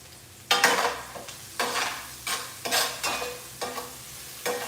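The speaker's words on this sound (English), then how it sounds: "little saute on the onion in oil" Onions sauté in oil in a pan, a close, steady sizzle punctuated by about seven rhythmic stirring strokes, each producing a sharp swell of crackle.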